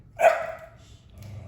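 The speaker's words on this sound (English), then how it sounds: "Now I apologize for the noise in the background. We have a puppy." A puppy gives a single short, sharp bark in the background of a quiet indoor room, moderately loud and followed by faint household hum.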